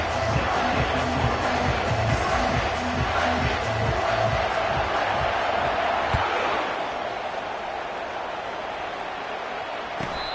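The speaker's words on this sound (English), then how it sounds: "This crowd, full throat, splitting the eardrums" A stadium crowd in a college football video game roars as a continuous dense wash after a touchdown kickoff, steady and loud before easing slightly near the end.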